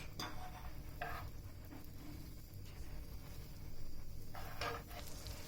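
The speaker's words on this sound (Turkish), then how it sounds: "Evet arkadaşlar tavamız kızdı. Tereyağımızı döküyoruz." Butter hisses and sizzles as it hits a hot pan for helva, a soft steady frying crackle with a few brighter bursts of spatter and light clinks, close and quiet, no talking.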